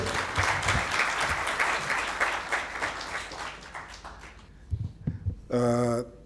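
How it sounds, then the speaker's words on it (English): Applause from a large audience at a forum opening ceremony fills the first few seconds as dense, steady clapping, then fades to scattered claps before a short tonal sound at the end. "Let's give him a big round of applause, ladies and gentlemen"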